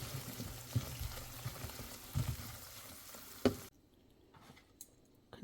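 Chital fish kofta sautéing in a spicy masala in a pan. A soft frying sizzle with a few stirring knocks runs for a few seconds, then drops to near silence with faint clicks.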